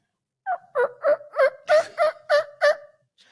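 A person imitates a turkey gobble with the voice, producing eight quick, rhythmic throaty pulses in one loud, close burst with no talk.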